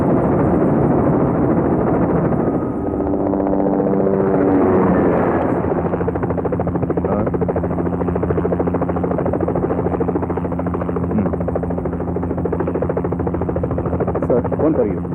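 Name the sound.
helicopter engine and rotor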